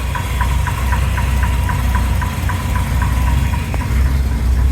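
A late 70s or early 80s 305 V8 engine idles steadily with a deep, lumpy rumble and a regular ticking pulse, loud and close, with no talking.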